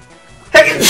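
A single sharp, close sneeze bursts out loudly near the end, following a quiet stretch of faint room noise.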